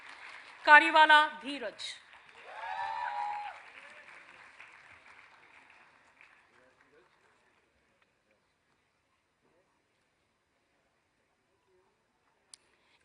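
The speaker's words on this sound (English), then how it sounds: "Keep the applause flowing, students." A convocation audience of business school students claps, with a short burst followed by a fading applause that thins out into silence; a voice announces a name over the start.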